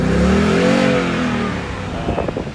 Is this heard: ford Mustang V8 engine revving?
yes